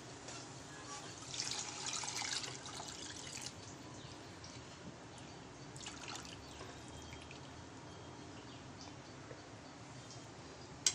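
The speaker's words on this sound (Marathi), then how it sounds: "म्हणजे डाळीचं उकडलेलं पाणी ते आपण ह्याच्यात घालूया" Boiled dal water pours into a pan of Maharashtrian katachi aamti, a brief louder splash and trickle early on, then a steady low liquid wash continuing close by without any talk.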